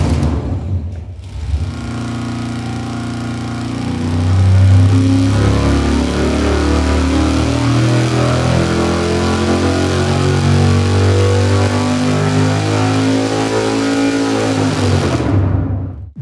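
Race engine on a dyno firing up and revving: after a short pause it catches and settles into a loud, throaty, pulsing roar that rises and holds with rough modulation for over ten seconds, then cuts off abruptly.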